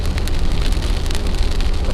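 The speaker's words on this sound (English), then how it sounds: "Give the Jeep a Scottish car wash here in the rain." Dense, steady rain patters on a Jeep during a drive near Lake Superior, an even hiss of drops with low road rumble underneath and no talking.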